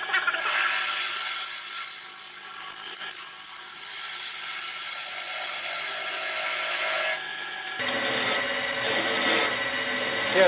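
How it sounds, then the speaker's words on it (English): A hand scraper rasps across wood in continuous strokes, a bright, close, scratchy texture that runs steadily, then drops into a quieter, thinner scrape near the end, with no talk. "And now we'll go play with the scraper for a while."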